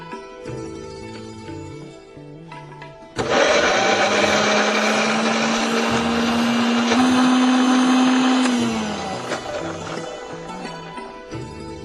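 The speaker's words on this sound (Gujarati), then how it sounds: "બ્લેન્ડ કરી લઈએ." A blender whirs loudly and steadily while blending chutney ingredients, including tomato, salt and red chilli. Its motor pitch shifts slightly partway through before it winds down. Quieter music plays before and after the run.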